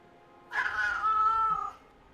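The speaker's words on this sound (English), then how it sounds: "That loud meow, like yowl he gave right there." A pet cat gives one loud, drawn-out yowling meow lasting about a second, close and clear against a quiet background.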